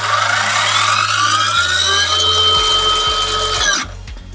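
Parkside Performance PPTSA 20-Li cordless 20V plunge saw runs steadily and fairly quietly, its gearbox whine more prominent than the motor, then spins down near the end with a low hum remaining.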